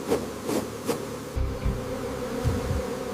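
A swarm of honey bees hums steadily while leaving a hive calmed with smoke, a close, continuous buzzing with a few sharper passes of individual bees near the listener.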